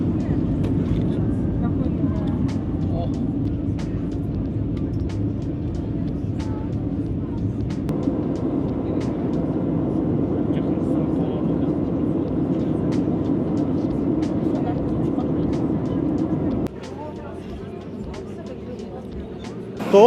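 Steady engine roar fills the cabin of an airliner in flight from Tashkent to Namangan, a constant broadband drone that drops slightly in level near the end.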